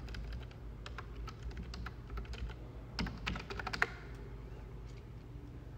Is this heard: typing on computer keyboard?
yes